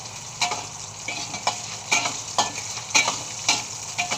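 Pork frying in a pan for kare-kare, a soft steady sizzle broken by regular scraping stirs about every half second, close up with no talk.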